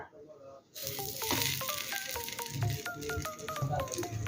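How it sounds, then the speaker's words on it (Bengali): A paneer paratha hits a hot frying pan and breaks into a loud, steady sizzle, with sharp pops and crackles of oil scattered through it, close and continuous after a brief quieter start. "ফ্রাই প্যানের মধ্যে দেবো বেলে নেওয়া পরোটা"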